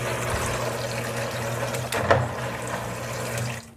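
Water rushes steadily into a cider fermenting vessel as it is rinsed, a continuous close pouring and filling sound with a low hum, cutting off abruptly near the end.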